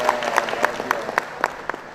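An audience at a West Java governor's public gathering claps in a regular rhythm, roughly four even claps a second, with a crowd murmuring underneath.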